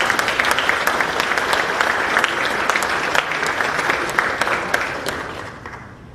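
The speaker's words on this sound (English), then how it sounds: "a big round of applause to them" A town hall audience claps for the volunteer brigades, a lively burst of many hands with sharp individual claps standing out, holding strong for several seconds before thinning and tapering off.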